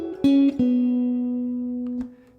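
Electric guitar plays a short lick from a song: two quick plucked notes, then a long sustained slide-down note that rings and fades, with a faint extra pick near the end.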